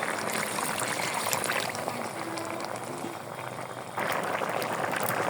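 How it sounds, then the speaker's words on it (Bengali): Water for a fish curry with bottle gourd bubbles and simmers in a pot, a soft continuous boiling wash with a slight surge near the end, close but fairly quiet. "কষানো হয়ে গেছে, এখন আমি ঝোলের পানি দিয়ে দেবো।"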